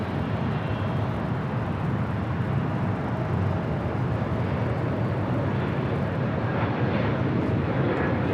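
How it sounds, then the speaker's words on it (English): A Southwest Airlines jet takes off at Los Angeles International Airport, a steady broad engine roar that holds at constant loudness throughout, heard from a distance with no voices. "with that Southwest flight taking off"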